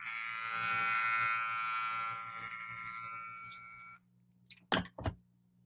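Andis hair clippers run with a loud, steady electric buzz for about four seconds, then cut off, followed by a few short clicking or tapping sounds nearby.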